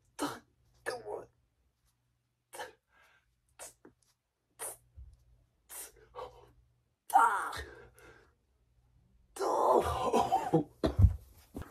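A man coughs, clears his throat and sighs after an intense late-night shoulder workout, with short raspy bursts separated by silence, then a longer harsh fit of coughing and heavy breathing near the end, close to the microphone.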